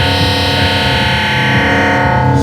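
A modular synthesizer oscillator's sine wave modulating a symmetry offset control produces a loud, sustained, harmonically rich buzzing tone with a gritty, distorted edge, steady throughout and without voices.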